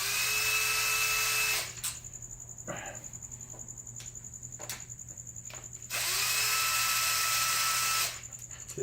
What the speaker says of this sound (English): I have a little driver so it'll go quickly.